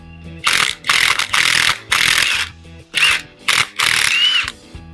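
An impact wrench at work on a 9 inch rear axle: loud, close bursts of hammering whir, seven or so rattling pulls separated by short pauses, with a faint squeak between bursts.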